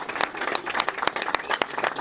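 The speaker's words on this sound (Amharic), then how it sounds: "አጨብጭቡልኝ በእናታችሁ።" An audience at an Ethiopian gift ceremony breaks into applause, scattered sharp claps building into a lively ragged burst with crowd noise beneath.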